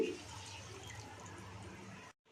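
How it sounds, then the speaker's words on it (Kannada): Water being poured into a North Karnataka-style masala curry, a steady close trickle and splash lasting about two seconds before cutting to silence. "ಈಗ ಸ್ವಲ್ಪ ನೀರು ಹಾಕ್ತಾಯಿದ್ದೀನಿ."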